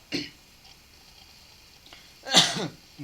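Two short coughs during a spoken lecture, one faint at the start and a louder, harsher one near the end, with quiet between them.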